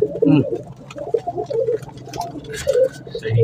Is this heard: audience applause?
no